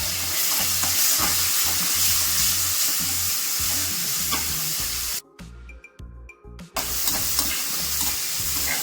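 Gongura greens with a little dal and tomato sizzle steadily in a hot pan as they are stirred and flipped, a close, continuous frying hiss that briefly drops out near the middle before resuming.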